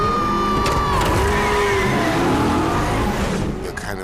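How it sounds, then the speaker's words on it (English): A Plymouth Cuda stunt car with modern power, Brembo brakes and coilover suspension driving on a film set, its engine note rising and sweeping with tire noise and a crowd cheering around it, loud and close. "She's driving her Cuda."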